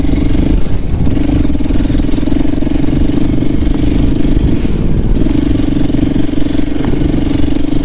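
A Hero XPulse 200 4V motorcycle with rally modifications rumbles loudly and steadily at close range while riding off-road, holding a constant throaty tone with little change in pitch.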